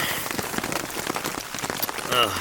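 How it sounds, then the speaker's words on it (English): Rain drums steadily on a Hilleberg Niak tent during a stormy night of camping, a dense close patter of drops with faint tonal sounds near the end. "It's been raining like this all night."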